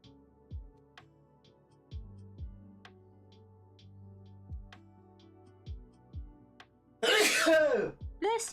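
A single loud, close sneeze bursts out near the end after a quiet stretch of soft, rhythmic low thumps.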